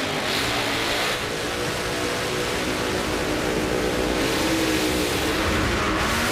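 A top alcohol funny car roars through a drag race run at Pomona's Winter Nationals, its engine blowing out the burst panel, a loud sustained engine blast with crowd noise throughout.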